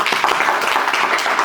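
A crowd at a tech meetup applauds its hosting partner with brisk, steady clapping that stays close and loud throughout the short burst.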